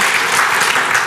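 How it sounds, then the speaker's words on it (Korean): A church congregation bursts into brief, dense clapping for Pastor Kim Wang, a loud, steady burst of many hands lasting about a second. "여러분 우리 김왕 목사 박수 한번 주시기 바랍니다"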